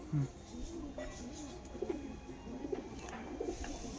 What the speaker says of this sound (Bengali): এটা পুরো ধাড়ি পায়রা